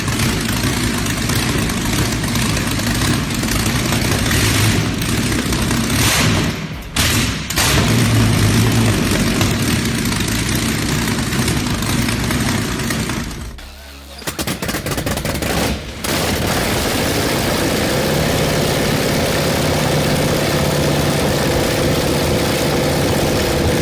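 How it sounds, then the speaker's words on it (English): A Rolls-Royce Meteor V12 27-liter engine roars loudly and continuously, with a rough crackling edge and a brief dip midway before the heavy roar resumes. "The instant the Rolls-Royce Meteor V12 growls awake, it's as if the very air splits open."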